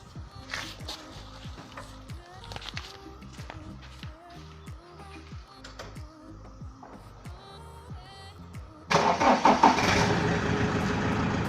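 A car engine idles with a steady, rumbling rhythm for several seconds while a potato is pushed into its exhaust, then a sudden loud rush of noise as it revs or sputters harder.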